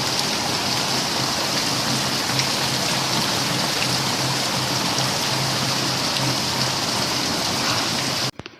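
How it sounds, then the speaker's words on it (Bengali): Heavy, steady rain pours down in an unbroken loud hiss for the whole stretch, ending abruptly at the close. "আজকের বৃষ্টিটা একদম জবরদস্ত হচ্ছে, সেরা"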